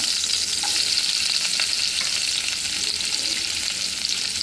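Vegetables including capsicum fry in hot oil in a pan for beef chilli, a steady, close, loud sizzle with faint stirring scrapes running throughout, no voices.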